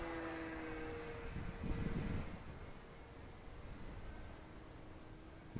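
An electric RC Fun Cub model airplane, an 1100mm-wingspan EPO foam kit at about half throttle on its maiden flight, gives a faint, distant motor drone with wind rush that swells briefly and then settles.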